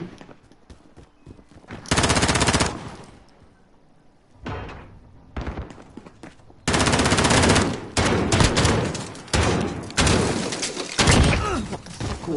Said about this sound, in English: What the fuck was that shotgun?